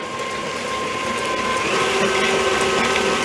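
An electric mixer creams butter, sugar and vanilla in a bowl, a steady close whirring drone that holds at an even level throughout.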